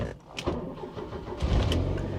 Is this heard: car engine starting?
yes